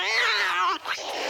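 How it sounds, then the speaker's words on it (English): A farmyard cat lets out a loud, close, wavering yowl that rises and bends, then breaks off and ends in a short second cry, heard alone without speech. "It's the farmyard cat."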